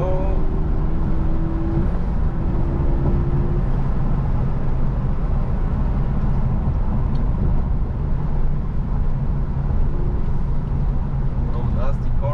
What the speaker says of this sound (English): Little brake here, 4th gear, and full throttle